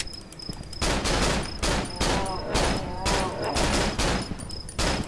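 Gunfire in the horror video game Cry of Fear, a run of loud, closely spaced shots in rhythmic bursts, harsh and near, with some talking underneath.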